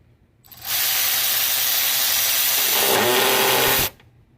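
Milwaukee M12 Fuel high speed ratchet (2567-20) on a fully charged battery, running at speed after a running start: a loud, steady whirring drone of about three seconds that shifts pitch near the end, then cuts off, alone with no talk.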